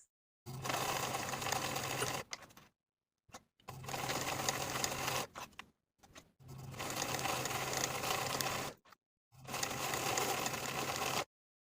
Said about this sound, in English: I'll edge stitch my snap tape in place a couple of times